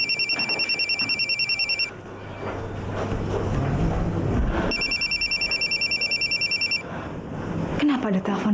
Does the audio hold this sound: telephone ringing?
yes